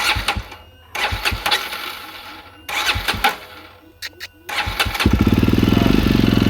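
A John Deere 5405 tractor engine cranks and catches near the end, settling into a loud, steady diesel chug, after a stretch of background voices and clattering noises.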